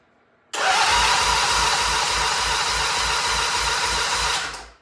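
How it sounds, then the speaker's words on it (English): A Norton motorcycle engine cranks steadily on its electric starter with the spark plugs removed for a compression test, a loud continuous whirring drone with fast even pulsing that runs about four seconds before winding down. "Ignition on, and I'm going to hit the starter now."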